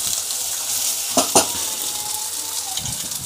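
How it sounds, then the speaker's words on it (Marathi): Food frying in a little oil in a pan and being stirred, with a steady close sizzle and a couple of sharp spatula scrapes partway through. "असं असं हलवत राहायचं, म्हणजे खाली लागत पण नाही"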